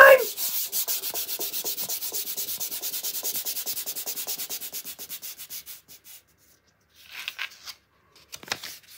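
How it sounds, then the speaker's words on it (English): A DVD disc being scratched and scraped, a fast steady run of rubbing strokes, close and fairly loud, fading out after about six seconds, followed by a couple of faint shuffling rustles. "The DVD's all scratched."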